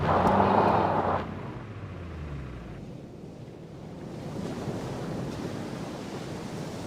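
Ocean surf rolls onto a remote, undeveloped beach littered with plastic, a broad steady wash of breaking waves with some wind, opening louder and then settling into a continuous, moderately distant roar.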